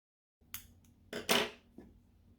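Scissors snip the starting tail of crochet yarn, giving a few quick, quiet close-up cuts and rustles over about two seconds.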